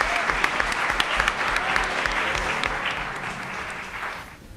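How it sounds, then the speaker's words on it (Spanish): Audience applause in a Spanish radio or TV studio honouring a teacher, a dense steady wash of many hands clapping that holds loud and fades slightly at the end. "Un aplauso para la maestra María Dolores Marco."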